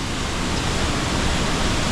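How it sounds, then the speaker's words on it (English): A waterfall along a forest trail near Bijagua and Rio Celeste in Costa Rica roars as a dense, loud, unbroken rush of falling water, close by and with no voices. "So we have reached the waterfall"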